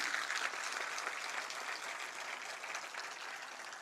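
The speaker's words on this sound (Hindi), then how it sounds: "मैं चाहूंगी इन सब के लिए आप जोरदार तालियां बजाएं" Audience at a government building inauguration in Lucknow applauding, a steady sustained wash of many hands, moderately distant and soft, tapering slightly toward the end.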